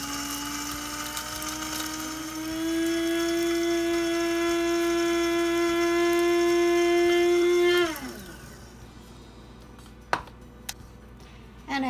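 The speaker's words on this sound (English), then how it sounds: "we're going to want to grind it up until it's the consistency of flour" An electric grinder runs with a loud, close, steady whine while grinding oats into flour, then spins down at about eight seconds and is followed by a few faint knocks.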